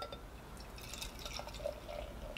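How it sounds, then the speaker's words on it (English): Urban South Oktoberfest Marzen lager is poured into a tasting glass, a faint, steady trickle and fizz with a few soft drips, heard alone and close. "A little sloppy on the pour."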